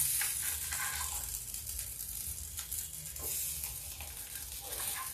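Potatoes for a crisp fasting-style aloo chaat pan-frying over low heat, a steady close sizzle with scraping and stirring as the pieces are turned over, constant throughout with no voices.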